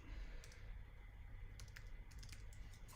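Keys clack on a computer keyboard in a few quick, faint bursts over a low room hum, with no one talking.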